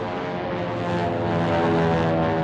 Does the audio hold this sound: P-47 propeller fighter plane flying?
yes